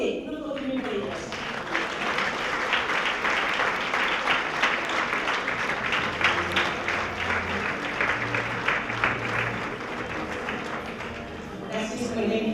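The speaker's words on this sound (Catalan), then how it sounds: "Un aplaudiment per elles." Sustained audience applause for honoured women textile workers at a tribute in Taradell, a dense steady wash of clapping lasting throughout, with a faint voice murmuring underneath near the end.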